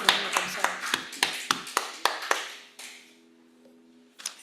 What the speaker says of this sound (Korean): 우리 예배를 받으시는 하나님께 감사와 영광의 박수 올려드립니다.